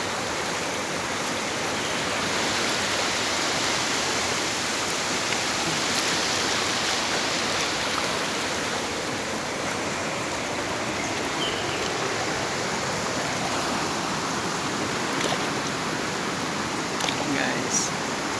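A river in Tuba, Benguet rushes in a steady, loud broadband wash that holds without pause, with a voice faintly present over the flowing water.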